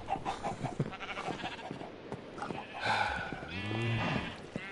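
Baby sheep in the Minecraft video game bleat in short, high, wavering calls over a busy background of game sounds, with a few near bleats standing out toward the end.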